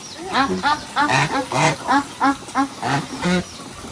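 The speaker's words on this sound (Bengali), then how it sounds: "ওই যে আরও হাঁস" Ducks quack repeatedly in short rhythmic bursts, several calls in a row, fairly close.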